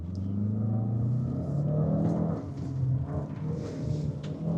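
A 2025 JAECOO J5 SUV weaves through a cone slalom, its engine rumbling and rising and falling in pitch as it accelerates between turns, heard steadily from inside the cabin with no talk.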